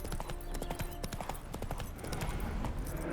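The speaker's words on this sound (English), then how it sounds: "Spooking my horse. Roach doesn't like ghosts." A horse in The Witcher 3 clip-clops along with steady hoofbeats under dense game ambience. A faint whinny may sit in the mix, and everything stays fairly quiet.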